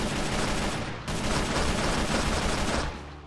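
Sustained dense gunfire from Techguns mod weapons such as a bolt action rifle and Kalashnikov in Minecraft, a loud continuous volley with a brief break near one second, then trailing off at the end.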